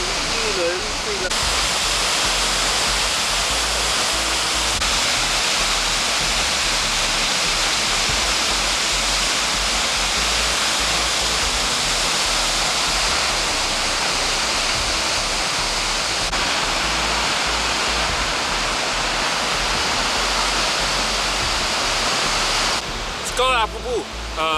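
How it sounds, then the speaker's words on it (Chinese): Heavy, continuous roar of a large, high-volume waterfall in Iceland, loud and steady from near the viewing platform, a broadband rush filling the whole clip with only brief faint sounds near the end. "刚才我们又爬到这个山顶上观景台看了这个瀑布，它整体的这个水流量非常大。"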